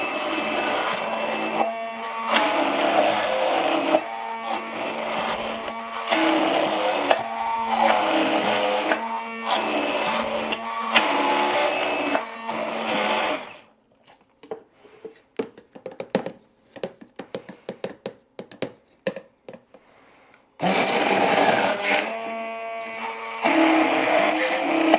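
A stick blender whirs steadily for a long stretch while emulsifying Greek yogurt and oil into mayonnaise, a loud buzzing motor that stops for a few seconds of quiet clinks and rustles, then starts again.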